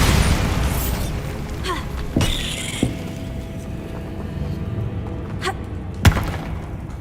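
Booming Bombarda spell blasts in Hogwarts Legacy, with sharp thuds around two and six seconds over a steady background of game ambience and rumble.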